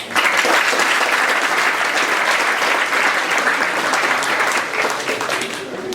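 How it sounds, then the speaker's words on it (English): A crowd at a minor B hurling final applauds steadily, a dense, sustained roar of clapping that holds loud and even from start to finish. "I'd like a big round of applause."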